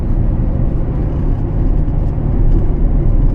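A 2024 Toyota Tacoma pickup truck with a turndown exhaust pipe drones steadily with a low, rumbling exhaust note as it cruises along, loud and continuous with no talking.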